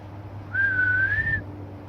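A person whistles a single sustained, slightly wavering note lasting under a second to imitate a mother bird for fuzzy baby birds, clear and close against quiet low hum.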